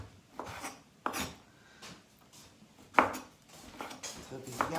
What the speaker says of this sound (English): So I'm just gonna quickly chop this stuff up.